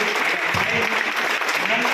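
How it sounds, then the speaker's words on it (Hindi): Audience applause at a marketing business speech in Surat, heard as a loud, continuous roll of many hands clapping with voices mixed in underneath. "मैं चाहूँगा कि उनकी एक जोरदार तालियां हो।"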